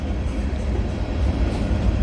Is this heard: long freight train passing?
yes